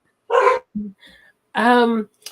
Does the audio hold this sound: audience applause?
no